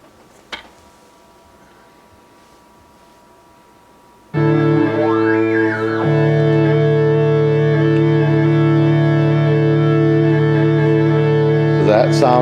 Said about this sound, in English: So that sound is coming from an Arturia Microfreak.